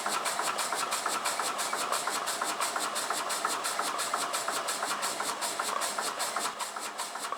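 A finished model steam engine running on air and steam chuffs in a fast, steady, even rhythm of crisp exhaust beats, close and continuous throughout with no voices.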